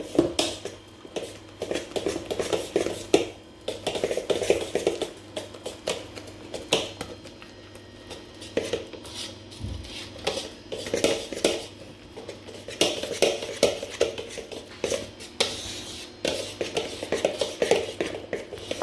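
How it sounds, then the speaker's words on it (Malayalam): A spoon clinks and scrapes repeatedly against a bowl while a mixture of salt, shallots and ginger is stirred for curd vada, steady close rattling taps without speech. "ഇനി ഇത് നല്ലതായിട്ടൊന്ന് ഇളക്കിയെടുക്കാം"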